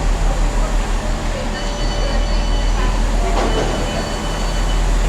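A GWR passenger train rumbling into a station near Eton and Windsor, a steady loud low roar of engine and wheels with faint metallic squeals, close by and continuous.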